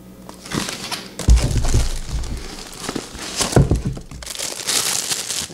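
Crinkling and crumpling of packaging being handled and torn open, with a few sharper crunches and rustles close by.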